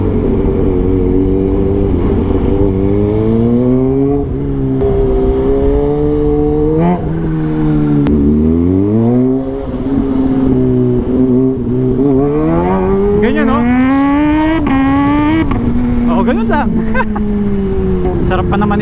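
Kawasaki ZH2 motorcycle accelerating hard with quick-shifter gear changes, engine pitch rising and dropping in repeated sweeps, loud and close with steady wind noise throughout.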